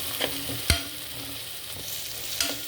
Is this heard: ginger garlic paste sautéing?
yes